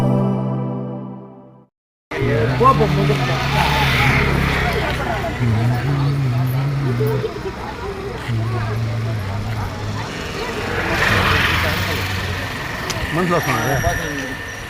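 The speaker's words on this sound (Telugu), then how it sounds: "బండ్లు వస్తున్నాయి" Motor vehicles approach along a road during a village Republic Day gathering at a panchayat secretariat, engines rumbling steadily and building under constant crowd chatter and talk, with music briefly at the start.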